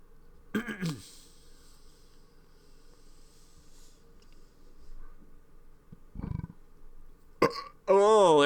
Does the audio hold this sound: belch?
yes